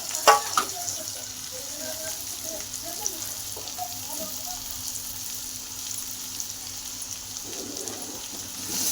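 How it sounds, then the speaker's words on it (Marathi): Whole garlic, tomatoes and onion frying in a pan, a steady low sizzle running throughout with occasional stirring clinks and scrapes, fairly quiet and close, with no talking. "चांगलं तळून घेतो जेवण टमाटे शिजण्यासाठी कांदा शिजण्यासाठी ना"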